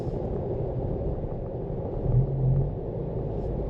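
A Toyota 4Runner TRD Pro truck taking a turn at about 38 mph, a steady low road and engine rumble from inside the cabin that swells briefly partway through, with no other sounds on top.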